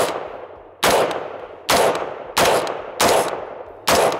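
Five loud, sharp rifle gunshots from a SOLGW M4-89 fired at a steel tactical target, spaced roughly evenly under a second apart, each with a sudden attack and a quickly decaying tail, with no talking.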